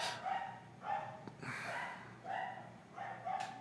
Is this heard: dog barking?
yes